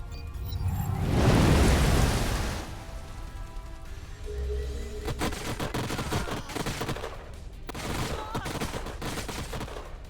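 Turret gunfire in the strategy video game Age of Wonders Planetfall, with a swelling burst of rumbling fire early on and then repeated rapid volleys of crackling shots at moderate volume.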